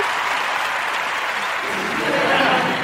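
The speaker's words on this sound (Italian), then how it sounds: "Vediamo un po' se ho degli applausi. Eccoli, sono arrivati." An applause sound effect plays during an Italian makeup show: a dense, even burst of crowd clapping at a steady loudness for a few seconds, with no voice over it.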